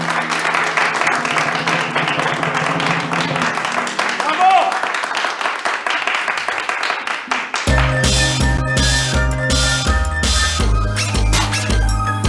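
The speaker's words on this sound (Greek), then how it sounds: "Παρακαλώ, ένα μεγάλο χειροκρότημα." An audience breaks into loud, sustained applause with clapping and cheering, which then gives way to a bright, rhythmic music track that continues to the end.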